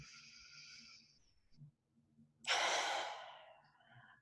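A close, audible breath in during a relaxation exercise follows a softer exhale, with faint low hum underneath and no talking.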